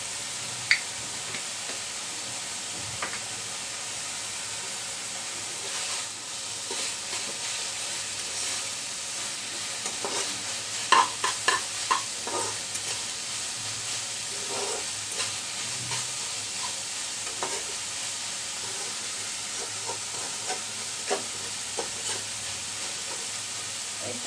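Helencha greens fry in a pan with a quiet, continuous sizzle and hiss, broken by scattered soft clicks and scrapes of stirring that cluster in the middle. No one speaks.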